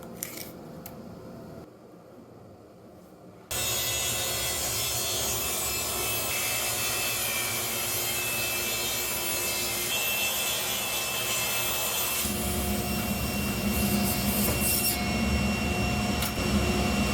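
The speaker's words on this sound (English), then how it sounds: "it's time to square up the other edge with the table saw" A table saw squares the edge of a hardwood board with a steady loud whine and the rasp of the cut, after a brief dip as the blade spins up, with the tone thickening near the end.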